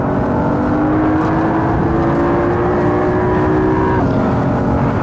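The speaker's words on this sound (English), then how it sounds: "I wish we had a better engine sound." A continuous engine drone of a Mercedes C63 AMG in the Assetto Corsa racing game, rising and holding in pitch, loud and unbroken, with a slight drop near the end.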